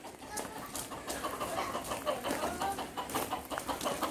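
Country chickens and a pure-bred rooster at a village farm cluck and squawk close by, the calls overlapping in a busy flock chatter that runs continuously without human voices.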